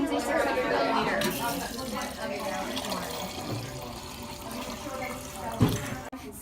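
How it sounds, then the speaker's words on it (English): Water running from a tap into a laboratory beaker until it is about two-thirds full: a steady rushing splash that holds at an even level throughout, with faint voices underneath. "Fill beaker about 2/3 full of water."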